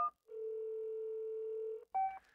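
A mobile phone placing a call: a short electronic beep, then a long steady tone lasting about a second and a half, then another brief beep, all clear and quiet, with no voices.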